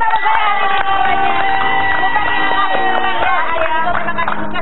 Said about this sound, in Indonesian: Tepuk tangan dong buat tamu-tamu saya hari ini semuanya.